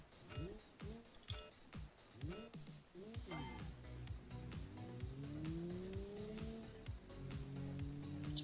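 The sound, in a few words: race car launch with bogging engine in BeamNG video game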